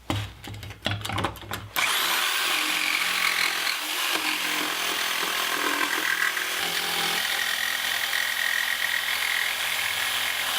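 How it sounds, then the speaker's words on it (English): After a few sharp knocks, a jigsaw cuts steadily through wood for a garden stool handle, its buzzing blade loud and close and running without a break for about nine seconds. "Then I'll be able to get in there with the jigsaw, make the cuts"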